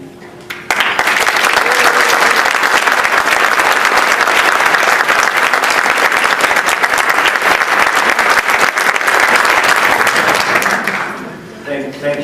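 Large audience at an award ceremony breaking into loud, sustained applause that starts abruptly, holds evenly for about ten seconds, then tapers off.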